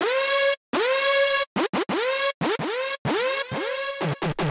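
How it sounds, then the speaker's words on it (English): A synthesized screech repeats in bursts, each a harsh, buzzy electronic tone that swoops upward in pitch, loud and close, with brief silences between. "we can create some sort of a screech."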